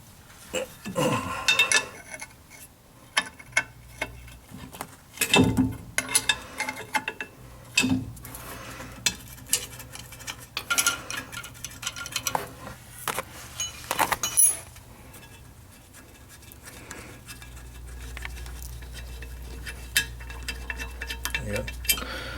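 Rear brake bolts being worked loose with a 1/2 inch wrench, scattered metallic clinks and ratchety clatter up close with quiet gaps between, ending in a low steady hum.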